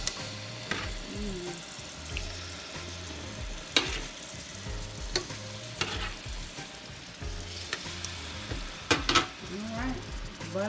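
Chicken sizzling in melted butter in a pan, a steady frying hiss with stirring clatter and a few sharp utensil knocks, with people talking throughout.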